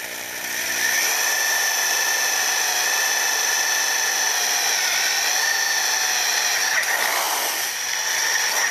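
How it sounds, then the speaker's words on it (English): A power drill bores a hole into the bottom of a tilt-over mast, a loud steady high-pitched whine running for several seconds with a brief dip in pitch near the end. "And then I'll drill the hole to the bottom."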